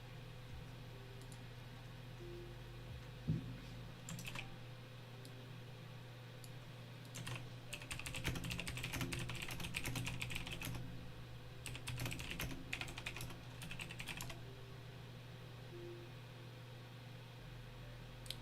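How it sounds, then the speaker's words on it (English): Loud typing on a computer keyboard, a quiet room-noise background with a steady low hum, the keystrokes bunching into dense bursts of rapid clatter near the middle and then thinning out. "I know my typing's pretty damn loud"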